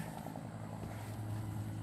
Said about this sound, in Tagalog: Naririnig niyo yun, helicopter.